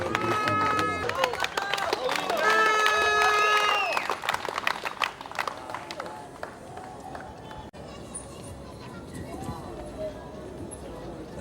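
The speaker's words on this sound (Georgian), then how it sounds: "აი ისმის ხმები, შეძახილები" A crowd in Gori celebrating wrestler Vladimer Khinchegashvili's Olympic gold raises voices and shouts, loudest and densest at first, then thinning into scattered calls and background murmur.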